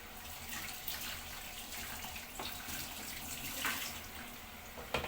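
Running tap water streams and splashes as pigeons are rinsed one by one in a kitchen sink, a close, continuous hiss with uneven splashes and a sharp clatter near the end.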